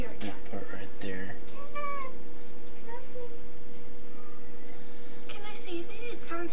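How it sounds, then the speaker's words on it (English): A cat meows several times in short, fairly loud calls at intervals, with people talking around it. "But it's a cat. It is a cat."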